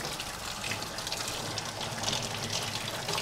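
Running water pours steadily from a tap over fresh tomatoes being washed in a kitchen sink, a continuous broadband splash lasting a few seconds with no talking.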